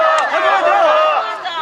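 A protest crowd at an Incheon candlelight rally against President Yoon Suk-yeol chants a slogan in unison: a loud, dense mass of voices shouting together, sustained throughout with slight swells.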